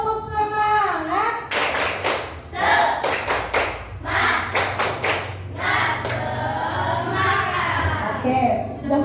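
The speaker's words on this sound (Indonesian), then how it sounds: "Tepuk semangat." A class of children claps out a rhythmic cheer, with bursts of fast, tightly grouped claps between stretches of chanting voices. A teacher's voice is also heard, and the sound is loud and close throughout.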